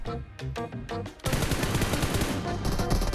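Automatic gunfire from a PUBG Mobile battle on the Rondo map, erupting into loud, dense bursts of rapid shots after a quieter stretch of distant pops, continuous and close for the last two seconds.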